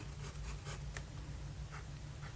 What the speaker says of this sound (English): And let's do some quick writing.